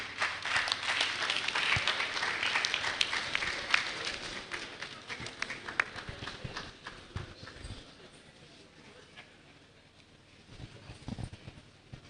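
An audience applauds the Deputy Governor of Akwa Ibom State at a hybrid communication and media conference, a dense, sustained burst of clapping that is loudest at first, then thins and softens before a brief late surge.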